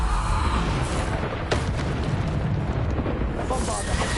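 Bombarda explosion spells burst in Hogwarts Legacy combat, with booming blasts and crackling rumble over a dense layer of game effects and a voice talking.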